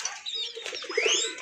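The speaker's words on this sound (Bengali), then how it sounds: "ভাই চলেন আমরা ছেড়ে দেখাই কবুতরগুলো।" Naira pigeons being let go: a quick burst of flapping wings with soft cooing mixed in, close and brief, no clear voices.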